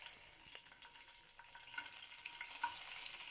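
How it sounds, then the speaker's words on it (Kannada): Tempering spices crackle and sizzle in hot oil, a steady frying hiss with scattered pops that grows louder and denser toward the end, with no voices. "ನೋಡಿರಿ, ನಾನು ಒಗ್ಗರಣೆ ಕೊಡ್ತಾ ಇದ್ದೀನಿ ಈಗ"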